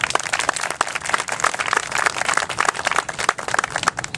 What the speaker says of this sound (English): Please, round of applause for Don.